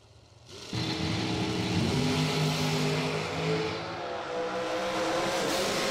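At a bracket drag race, a dragster and a car launch down the strip with a sudden loud engine roar that holds steady, its pitch climbing and falling as they accelerate away.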